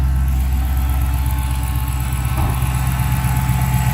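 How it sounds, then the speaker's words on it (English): A V8 engine in a Dodge Challenger idles steadily with a deep, even rumble, close by and without any revving. "this engine runs just like a time clock. It doesn't even shake."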